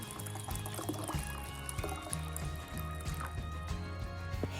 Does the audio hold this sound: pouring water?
yes